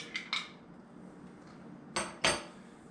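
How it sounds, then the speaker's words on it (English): A spoon stirs a collagen drink in a glass, giving a few sharp clinks early on, then a quiet pause and two louder ringing taps near the end, close and without talk. "Let me give it just a little more stir."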